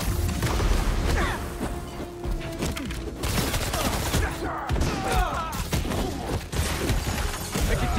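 Dense, continuous gunfire rattles through a combat scene in Marvel's Spider-Man 2, with bursts, crashes and booms layered over each other at close range and loud throughout, and a voice occasionally shouting over the chaos.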